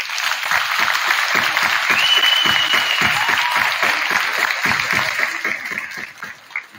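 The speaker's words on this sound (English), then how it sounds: "a round of applause for everybody in the room" Applause rings through a high school gym after a coed varsity volleyball program honoring seniors, with many distinct hand claps forming a loud, sustained round that tapers off toward the end.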